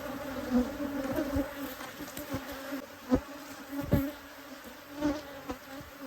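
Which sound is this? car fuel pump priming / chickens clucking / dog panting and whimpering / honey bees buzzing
honey bees buzzing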